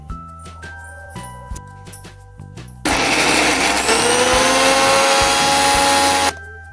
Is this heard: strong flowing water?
no